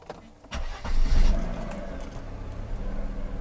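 A Mercedes-Benz W126 300SEL with its engine warmed to about 60–80 degrees cranks and fires almost at once, swelling to a loud close roar before settling into a steady idle rumble.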